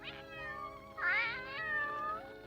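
A cartoon cat meows in several drawn-out, wavering cries, the middle one rising loudest, heard alone and close.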